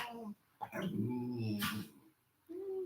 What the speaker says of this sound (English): That's my dog, Charlie.